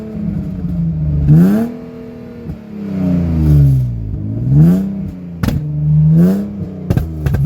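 A BMW E36 engine revs up and falls away in several rising and falling sweeps, close and loud, with sharp exhaust pops and crackles cutting in between the revs.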